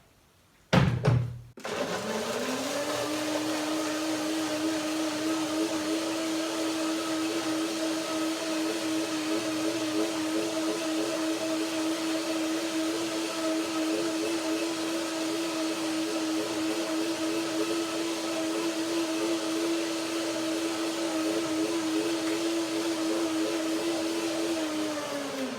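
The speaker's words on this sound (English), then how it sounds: "So this is the first blending." A blender runs continuously at close range, breaking down banana, lemon, a little water and unsoaked cashews. It starts with a short burst, then holds a steady loud whirring hum for over twenty seconds.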